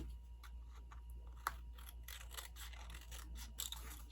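Snips cut around a folded paper card with a run of quick, crisp little clicks and snaps. One sharper snap stands out, and the sound is close and faint against a low background hum.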